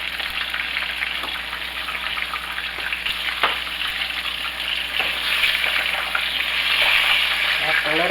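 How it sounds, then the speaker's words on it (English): Pork schnitzel frying in hot oil gives a steady, dense sizzle and crackle that holds loud and close throughout, with a few sharper pops and a slight swell toward the end. "You have to stand right over them while they are frying."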